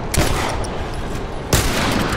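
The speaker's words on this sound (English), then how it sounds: "One more kill with a pistol." Pistol shots ring out in The Last of Us: Left Behind, two sharp gunshots about a second and a half apart over a dense, noisy game background.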